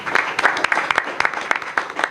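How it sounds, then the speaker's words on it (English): Audience applause at a forum on combating the opioid crisis: a modest, scattered round of clapping with distinct individual claps rather than a dense roar, fairly close and steady for about two seconds. "So give yourselves a big round of applause."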